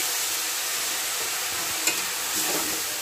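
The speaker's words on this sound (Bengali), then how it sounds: "ওভেনের আঁচ মিডিয়াম রেখে আরও 2 মিনিটের মতো নেড়ে চেড়ে ফ্রাই করে নিলেই কিন্তু হয়ে যাবে" Spicy masala Maggi noodles being stir-fried in a pan over medium heat, an even, close sizzling hiss with a couple of quick utensil scrapes, and no talking.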